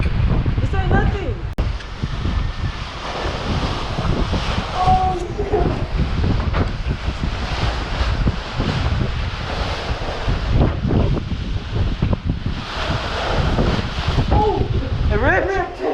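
Strong gusting wind buffets the microphone outdoors during a homemade parachute test, a loud continuous roar with surging gusts, and voices talk faintly beneath it.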